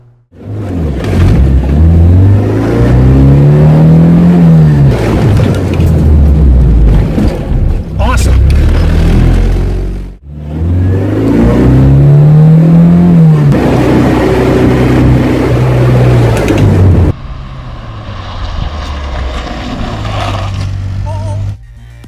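A car on a road test after a rear disc brake swap, bedding in the new brakes, revs and accelerates repeatedly, pitch climbing and falling through gear changes, loud and close, then settles to steadier road noise.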